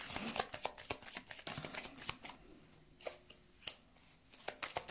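Tarot cards being laid and shuffled onto a table, a quick run of soft papery slaps and flicks at close range, pausing midway before a few more crisp card snaps with no one speaking.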